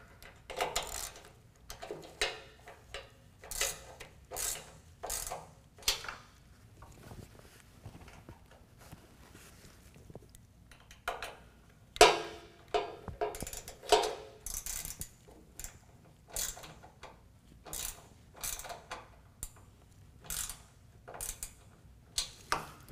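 Trailer bolts tightened with a 7mm wrench while a Phillips screwdriver holds the other end, with a rapid series of close metallic ratcheting clicks in bursts, pausing between turns.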